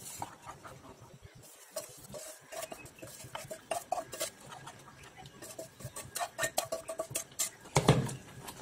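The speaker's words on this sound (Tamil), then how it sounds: "கொஞ்சம் கொஞ்சமா சேர்த்து கிண்டி விட்டுக்கோங்க" A spoon stirs semolina into boiling water in a pot, scraping in quick, uneven strokes, with occasional metallic clinks and no one talking.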